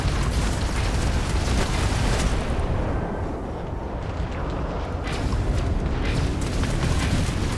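Spaceship cannons in a video game fire as a dense, continuous barrage of booming bursts and explosions that stays loud from start to finish, with heavier impacts swelling near the beginning and the end.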